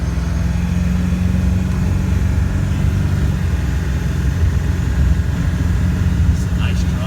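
A 2000 Ford F350 diesel 4x4 one-ton truck with stiff suspension cruising down the road, a loud steady low engine and road rumble filling the cabin throughout, with a person talking over it.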